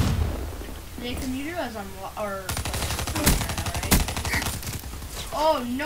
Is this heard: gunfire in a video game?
yes